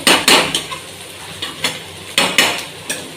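Metal lid set onto a cooking pan of Bengali banana flower ghonto, with several sharp clanks and taps spread across the moment, close and fairly loud over a soft background hiss.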